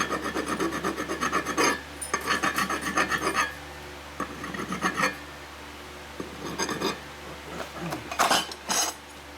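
Hand file rasping burrs off a 1990s Harley Evo lower-end motor part on a bench, bursts of harsh close scraping strokes in runs separated by short pauses.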